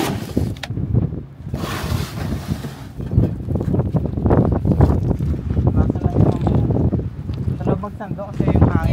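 Strong wind blows outdoors in a sandy, blustery spot near water and buffets the microphone in a continuous roar that surges and eases, with people talking over it throughout.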